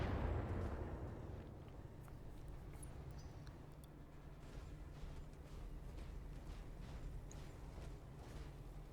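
Missile strikes in the Battletech video game land as a deep, rumbling salvo of explosions. The impact is heavy at the start and fades into a sustained low roar with scattered small pops.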